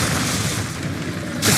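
A Bombarda explosion spell in Hogwarts Legacy, a single loud, close burst near the end that follows a stretch of rumbling game noise.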